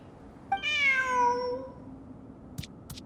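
A cat in the video game Genshin Impact gives one clear, drawn-out meow that slides downward, followed by a couple of faint clicks in an otherwise quiet scene.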